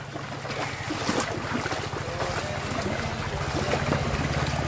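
Steady rush of moving water with a low rumbling hum and wind buffeting the microphone throughout, no voices.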